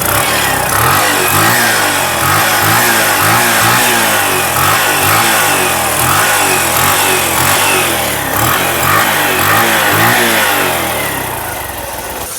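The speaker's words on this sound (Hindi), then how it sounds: "अभी हमने इस बाइक को चालू कर दिया" A motorcycle engine idling steadily right after being started, examined by a mechanic for an engine noise fault, a loud, close, rhythmic chugging that runs continuously with slight rises in revs and no talking.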